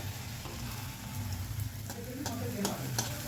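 Puri frying and puffing in hot oil at home, with a soft continuous sizzle broken by a few sharper pops and scraping stirs, fairly quiet and close.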